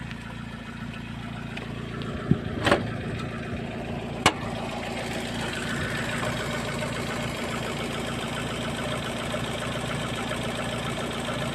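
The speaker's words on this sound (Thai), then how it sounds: "เครื่องยนต์เดินเรียบเดินนิ่งดีครับ เครื่อง 5A ครับ" A 1997 Toyota Soluna with a 5A engine idles smoothly and steadily, a continuous close engine hum with a couple of brief clicks early on and no talking.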